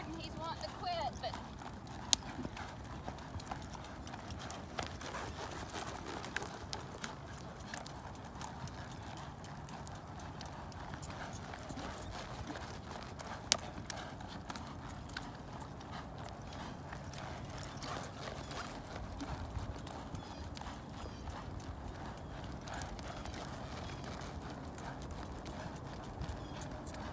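A tired horse under training moves in a steady, rhythmic clip-clop of hooves, faint and distant, with scattered sharp knocks and a quiet voice in the background.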